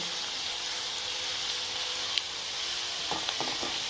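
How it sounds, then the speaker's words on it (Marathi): Chopped onion sautéing in a pan for a masala dish gives a steady, moderate sizzle with soft crackle throughout, a few faint stirring clicks near the end. "एक अर्धा मिनिट कांदा छान परतून"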